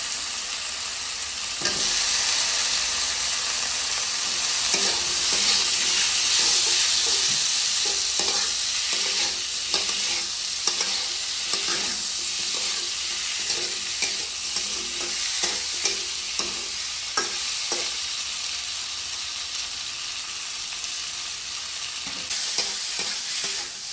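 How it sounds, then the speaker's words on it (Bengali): Cut potatoes, onions and chillies sautéing for a Rui fish and potato curry, a steady loud sizzle of oil with frequent scraping, clattering stirs against the pan throughout, and no one talking. "কেটে রাখা আলু পেঁয়াজ মরিচের মধ্যে দিয়ে ভালোভাবে কষিয়ে নিন"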